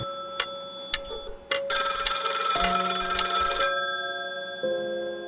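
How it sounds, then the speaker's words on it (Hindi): An old-style telephone bell rings in a loud metallic burst lasting about two seconds, preceded by a few short ticking clicks and followed by a fading resonant ring, with no talking. "इधर क्लार्क ने 11 बजाते उधर टेलीफोन की घंटी बजी।"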